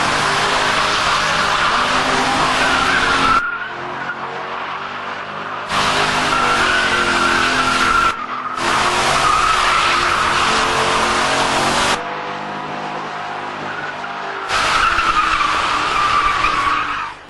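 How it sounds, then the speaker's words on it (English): Company Holden Commodore V8 doing a burnout, loud skidding tyre squeal over a roaring engine in several long bursts with brief drops between them. "Lance Warren of Cosmo fame decided to celebrate with a burnout in the company Commodore V8"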